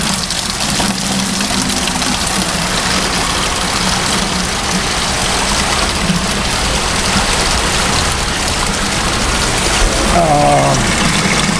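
Plastics wastewater sludge carrying plastic film rushes through a screen as a continuous loud watery hiss over a mechanical hum, with a voice briefly heard near the end.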